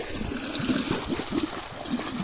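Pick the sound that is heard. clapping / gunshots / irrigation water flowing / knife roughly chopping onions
irrigation water flowing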